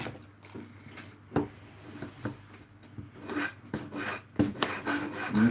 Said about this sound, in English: right now I'm creating a sanding stick